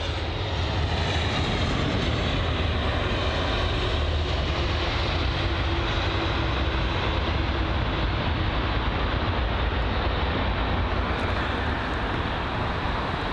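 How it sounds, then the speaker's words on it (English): A Virgin Atlantic A330-300 airliner lands at London Heathrow with a bumpy touchdown, its engines giving a loud, continuous, steady roar throughout. "oh, a bumpy touchdown"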